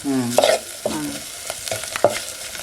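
Masala being stirred and sautéed in a hot pan in a Konkan home kitchen while chicken vade are prepared, with a few scraping spoon strokes over a soft sizzle, close by and without speech.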